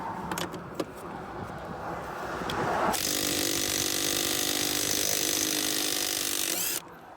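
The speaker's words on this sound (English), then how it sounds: "You're going to get the impact gun here." An impact gun loosens the lug nuts on a 2017 GMC Sierra pickup's wheel. After a few seconds of quiet workshop noise, it runs in one loud, steady, buzzing burst of about four seconds, then cuts off abruptly.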